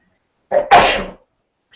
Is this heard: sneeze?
yes